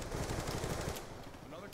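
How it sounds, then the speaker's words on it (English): An MSMC submachine gun fires a fast, loud burst for about a second in the video game Black Ops 2, then cuts off, leaving quieter game ambience behind. "fired off my MSMC"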